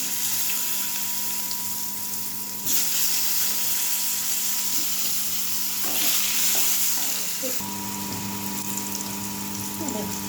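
Ginger-garlic paste added to hot oil with black cumin seeds, giving a steady close sizzle and frying hiss with a few stirring scrapes, continuous throughout and fairly loud.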